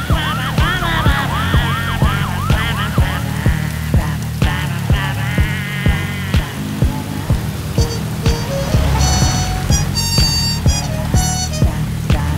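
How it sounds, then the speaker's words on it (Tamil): A wailing ambulance siren rises and falls repeatedly alongside traffic noise, with a vehicle horn and other warning tones joining toward the end. "போலீஸ் வண்டி எல்லாம் இல்லண்ணே, ஆம்புலன்ஸ் தான்."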